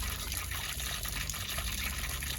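Water poured out of a bottle runs in a steady, continuous gush at close range, with no pauses and no talking.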